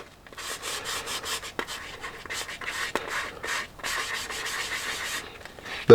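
Paint is rubbed by hand into the body of an SCX24 RC crawler, making a steady dry scrubbing sound in rapid back-and-forth strokes, close and fairly loud with brief pauses and a few sharp ticks.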